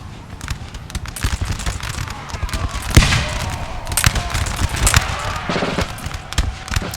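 Russian grenadiers in Napoleon Total War fire a ragged musket volley, sharp cracks popping irregularly over several seconds, some loud and close, others scattered, like a string of firecrackers, with no talk.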